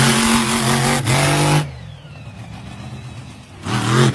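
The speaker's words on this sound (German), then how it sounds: "RC-Auto wahrscheinlich." Remote control car engine revving in short loud bursts, a high whining buzz that rises and falls, dropping to a quieter idle hum before another loud rev near the end.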